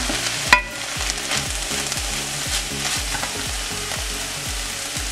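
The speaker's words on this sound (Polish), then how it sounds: "I podsmażam pieczarki." Mushrooms and vegetables sizzling in a pan for rice with vegetables, a steady close crackle broken by rhythmic stirring scrapes and a sharp knock near the start, no talking.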